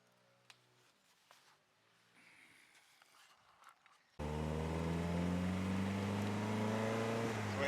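A classic TR sports car engine roars in abruptly and loud while driving, revving through the gears in a steady, throaty drone close by, after a quieter stretch of faint cabin rustling.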